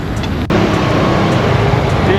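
Busy Saturday street traffic in central Porto near the train station, a steady dense roar of cars and buses close by, with a brief dip then continuous engine and road noise throughout.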